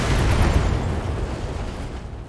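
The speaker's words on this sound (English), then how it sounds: "Firing a full salvo." A BattleTech mech unloads a full weapon salvo, including autocannon and machine-gun fire, at a Scorpion vehicle, heard as a heavy rumbling explosive boom that rolls out and slowly fades over a couple of seconds.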